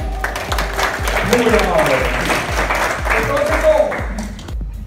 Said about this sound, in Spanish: ¿Le regalamos un aplauso a Rocío?